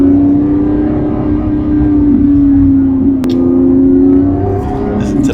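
Lamborghini Revuelto engine droning steadily while driving, a loud continuous hum with a slight rise and fall in pitch and no talk over it.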